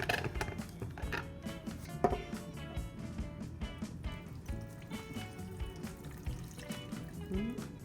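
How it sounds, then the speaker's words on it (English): Hot water pours steadily into a blender with a continuous splashing trickle, close by, accompanied by light clinks and knocks. "then you're gonna be adding half a cup of hot water"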